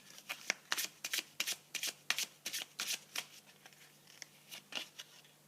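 Tarot cards being shuffled and drawn: a rapid series of crisp, papery riffles and flicks in uneven bursts, fairly quiet and close, with no talking.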